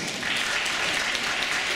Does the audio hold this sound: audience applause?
yes